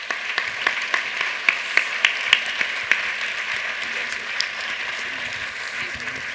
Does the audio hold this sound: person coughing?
no